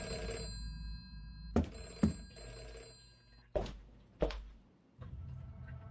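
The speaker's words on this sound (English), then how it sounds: "Is that a phone?" Old-style telephone bell ringing in the dark horror game Deep Sleep, several separate rings at a distance, spaced apart and fairly faint against quiet ambience.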